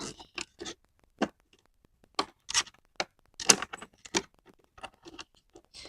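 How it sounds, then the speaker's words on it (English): A TSA coded lock is fastened onto the zipper of ride-on smart luggage, producing a series of close, sharp plastic-and-metal clicks and rattles in irregular bursts with short pauses between. "This is a TSA coded lock. So you can actually lock this zipper in this area very conveniently."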